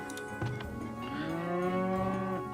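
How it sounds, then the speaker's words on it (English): Cows low in the Farthest Frontier video game with a long, loud, drawn-out moo that bends in pitch over a steady background hum, alone without talk. "Cows."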